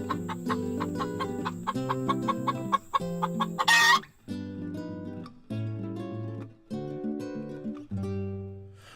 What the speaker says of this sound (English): And more chickens.